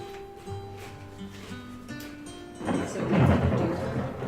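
Thunderstorm sound effect played during a tabletop roleplaying game session, with a low rumble of thunder swelling into a loud roll over steady rain hiss, preceded by a faint droning tone, no talk.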